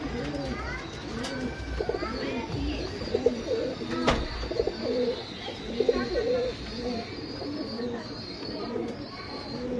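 Male Gulzar pigeon with a single tail, cooing in repeated rhythmic rolling phrases close by, with other birds chirping faintly in the background and a person talking quietly.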